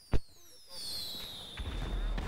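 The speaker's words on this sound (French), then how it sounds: "faites péter des feux d'artifice si vous en avez là" Fireworks go off in the video game GTA V Online, a sharp bang followed by whistling rockets streaking upward and a low rumbling burst, with faint voices underneath.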